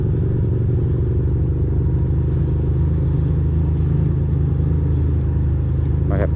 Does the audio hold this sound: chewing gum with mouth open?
no